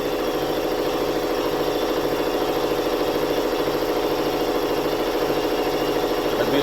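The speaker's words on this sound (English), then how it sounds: "There's the compressor." Air compressor running steadily in a workshop, a constant mid-pitched droning hum with a fast rhythmic pulse, close by and unbroken throughout.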